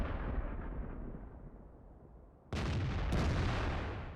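A tank cannon fires in World of Tanks, as an M12, with a loud sharp blast cutting in partway through over a steady rumbling game backdrop that rings on afterward.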